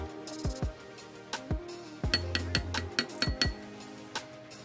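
Sugar and extra virgin coconut oil stirred together in a bowl for a body scrub, giving a run of close, sharp clinks of a spoon against the dish in an uneven rhythm, with no voices.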